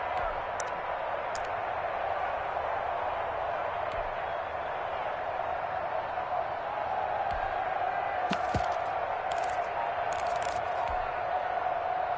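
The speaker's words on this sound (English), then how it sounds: "The crowd getting into it as we come up on a big 3rd down." Crowd noise in an American football video game builds as a steady, even roar through a third-down play, with a few sharp clicks and ticks near the end.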